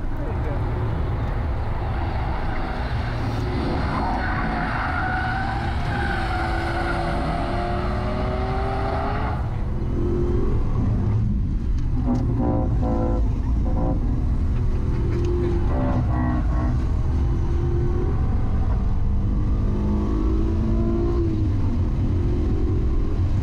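A 1995 Mazda car engine idles with a low, steady growl, revving slightly partway through, while people talk nearby.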